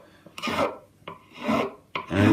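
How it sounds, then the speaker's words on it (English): A hand file's safe edge rasps over the edges of a custom Telecaster build as they are rounded, giving three slow, close scraping strokes with short pauses between them and no talk. "all we're going to do with this safe edge of the file offered up is we're going to literally just start rounding them over on both sides"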